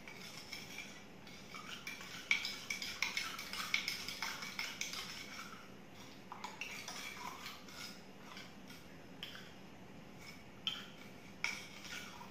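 Garden soil being stirred into water in a container during a science lesson, giving soft irregular clinks and scrapes of a utensil against the vessel, faint and close, with no speech.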